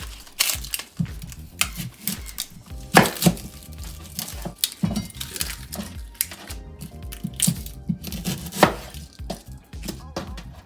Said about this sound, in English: Next up, we are going to cut our onion up.